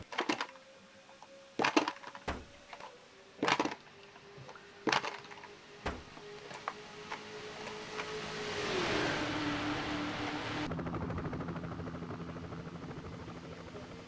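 Race cars in a Daytona 500 racing game, their engine roar rising into a loud, steady drone over several seconds, preceded by sharp clicks and clacks, with no talking.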